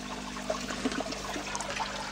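Garden pond filters run steadily, their water flowing and trickling with a continuous close wash and a few small splashes.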